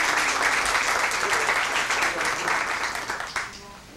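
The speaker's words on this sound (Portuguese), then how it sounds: "Pedir uma salva de palmas para a pessoa que acabou de chegar" An audience at a literary reading circle at a cultural centre applauds a guest who has just arrived, steady dense clapping that holds for several seconds and then thins out near the end.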